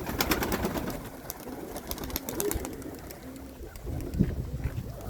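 Pigeons coo in low, throaty bursts while chasing a young pigeon outdoors on a windy summer evening, with flapping and rustling close by.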